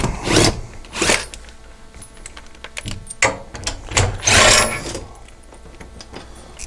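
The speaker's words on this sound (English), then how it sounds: "We'll take a 7/16 socket, and we'll go ahead and remove these bolts now." Bolts being loosened and removed with a 7/16 socket from a seat mount inside an Intimidator GC1k UTV, giving irregular metallic clicks and scraping bursts at close range, with no talking.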